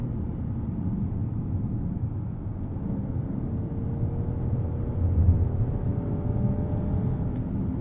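Kia Telluride V6 accelerating hard under full throttle, a steady low engine drone with a faintly rising tone as the revs climb, heard from inside the cabin.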